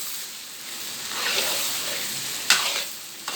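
Bopis, a Filipino dish, sizzles in a hot pan while being stirred, giving a steady frying hiss with a couple of sharp scraping clinks near the end.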